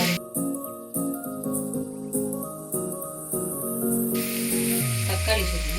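A handful of coriander and mint leaves sizzle loudly in hot oil for mushroom biryani, a continuous frying hiss punctuated by repeated clinks and scrapes of a spoon stirring against the pan.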